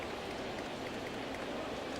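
Steady rain shower falling at a ballpark during a Rangers vs Red Sox baseball game, an even hiss of drops throughout with no other clear sounds.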